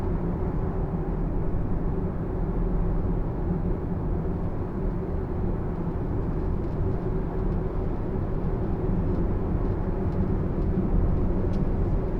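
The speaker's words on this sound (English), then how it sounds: "there was an airplane landing in Peretola" A steady, broad low roar of a plane coming in to land at Peretola airport in Florence, constant and fairly loud, with road and engine rumble from a Tesla Model Y blended underneath throughout.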